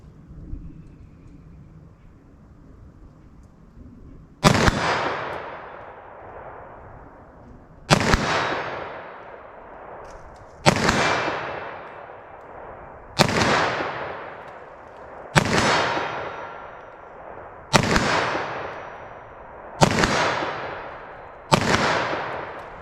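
Eight sharp .45 ACP shots from a short-barreled Liberty Overwatch snub-nosed revolver crack out at an outdoor range, each a loud close blast with a decaying tail, fired at a slow, fairly steady pace after a quiet start.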